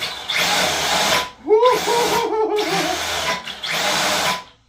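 A Tamiya Fat Fox RC car with an upgraded 3S brushless motor whines in four loud, close bursts of revving, with a short falling-and-rising pitch sweep between the first two.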